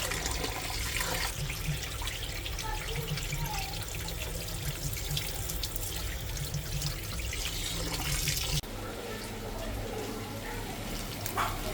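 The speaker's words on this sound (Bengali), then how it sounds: "ভালো করে চালটা ধুয়ে নিব" Polao rice being washed in water, with steady running water from a tap into a sink and splashing throughout, continuous and fairly loud, shifting slightly near the end.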